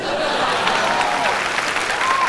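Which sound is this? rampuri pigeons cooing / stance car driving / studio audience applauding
studio audience applauding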